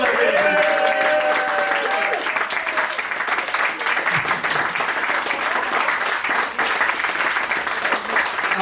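A studio audience applauding at a quiz show taping, dense sustained clapping throughout with some speech-like tones over it at the start.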